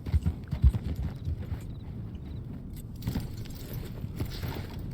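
Horse hooves clip-clopping in a video game, a loose run of light irregular footfalls close by with a faint jingling, steady over a low background bed without talk.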